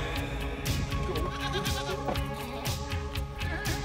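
Goats and sheep bleat constantly inside a multi-storey goat and sheep house in Spain, with many loud, overlapping cries from nearby animals.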